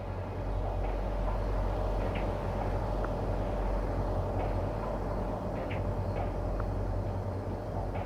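An enemy vehicle in the strategy game World in Conflict speeds past with a loud, steady engine roar, with faint clicks and small impacts under it.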